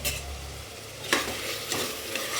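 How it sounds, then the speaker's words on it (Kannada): Ground tomato paste with coriander powder frying in hot oil, a close, steady sizzle broken by a few louder stirring scrapes of a spoon. "ಇದು ಎಲ್ಲ ಹಸಿ ವಾಸನೆ ಹೋಗೋವರೆಗೂ ಚೆನ್ನಾಗಿ ಉರಿಬೇಕು ಆಯಿಲಲ್ಲಿ"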